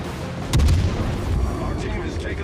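Secondary guns on a warship firing in the naval game World of Warships, with a loud booming low report near the start, then rumbling battle noise and faint further shots. No speech is heard.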